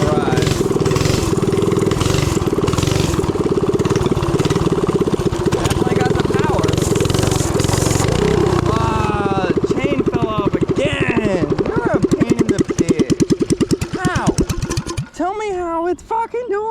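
A small engine on a mini drift trike cranks and runs, a rough, loud buzzing that revs and sputters near the microphone, ending in rapid pulsing firing. Voices talk over it.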